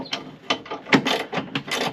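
A ratchet wrench loosens the bolts fixing a swivel seat base to its rail in a Ford Econoline camper van. Several sharp, close clicking strokes come in an uneven rhythm, with no talking.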